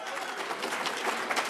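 Audience applause for Senator Kelly Ayotte at a New Hampshire morning event, a steady dense patter of many hands clapping throughout, moderately loud and without talk.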